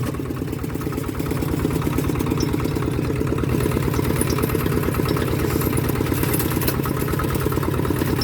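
A Toyota Vigo pickup truck's engine runs with the gearbox removed, giving a steady, rhythmic low chugging idle that holds close and constant throughout.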